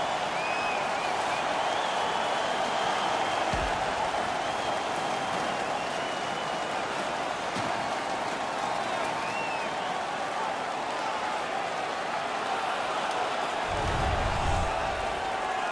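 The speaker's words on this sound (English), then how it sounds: "The home crowd is ecstatic. They're making all kinds of noise." A home crowd in the NHL 16 hockey video game cheers and roars loudly after a fight, a continuous wash of noise with scattered claps and brief thuds.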